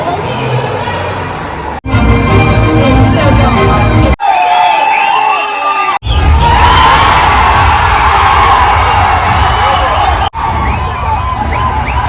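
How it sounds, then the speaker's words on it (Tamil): A packed cinema audience cheers, whoops and shouts loudly as the title of Vidaamuyarchi appears on screen, with a sustained roar of crowd noise broken by a few short edits. "விடாமுயற்சியின் டைட்டில் ஆரம்பித்தோடனே சரியான சவுண்டுங்க. தேட்டரு அலறிடுச்சு"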